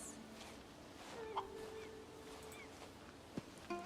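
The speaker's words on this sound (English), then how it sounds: "Chicken." A few soft chicken clucks and brief calls from fowl in the video game Book of Travels, faint and spread out over a quiet ambient background, with no talking.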